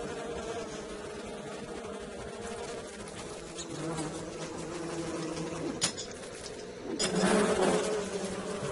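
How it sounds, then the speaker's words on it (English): A swarm of persistent bees in Don't Starve keeps up a continuous buzzing drone with game music beneath, growing louder near the end; no one speaks. "I'm some seriously persistent bees."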